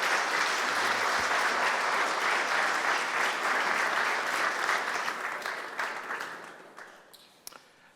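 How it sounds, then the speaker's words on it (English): Audience applause at a talk on environment storytelling for video games, steady dense clapping from a large room that holds for about five seconds, then thins and fades toward the end with a few last scattered claps. "let's have a good round of applause for our next speakers"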